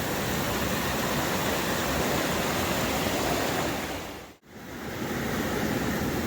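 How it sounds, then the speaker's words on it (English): A raging river rushes in a loud, dense, continuous roar of turbulent water, briefly dropping out for a moment before the torrent resumes, with no voices. "The river's raging."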